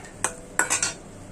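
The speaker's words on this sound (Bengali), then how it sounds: "কড়াইটি বসাই দিছি।" A metal wok set down on a stove, a few quick clanks and scrapes of metal in close succession over a low kitchen background.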